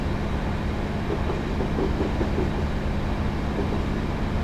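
A train in Train Simulator 2015 rolls at about 70 mph through the points at Greenhill Junction on the Larbert to Glasgow Queen Street route, giving a steady, close rumble with faint rhythmic clatter.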